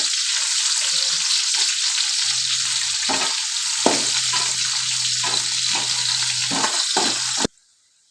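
Onions sizzling loudly in a pan for spicy murmura chivda, a dense, continuous hiss close up with a few brief utensil knocks and a low hum beneath, cutting off abruptly near the end, with no voices.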